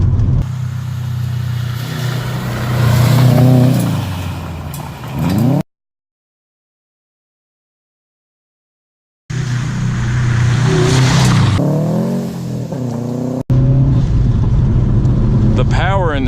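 A stock 2012 Subaru WRX STI driven as a rally car, its engine loud and close as it accelerates hard in two bursts separated by a silent gap, with tire and road noise mixed in.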